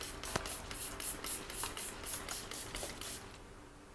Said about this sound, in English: spray them all.